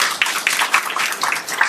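A crowd at an annual interfaith Thanksgiving gathering breaks into applause: dense, steady clapping that fills the short stretch at a loud, even level.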